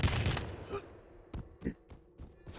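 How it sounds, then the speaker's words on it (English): Shotgun blasts fired in a fast-paced first-person shooter match, a loud burst at the start followed by several sharper shots in quick succession. "ARSENY goes into the starting shotgun and finishes up the job"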